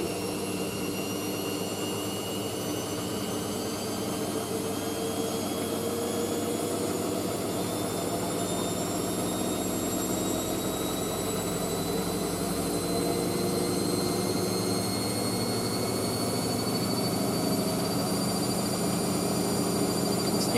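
A Hoover washing machine drum speeds up toward an 800 RPM spin, a steady loud whine with rising tones held for about twenty seconds with no talking.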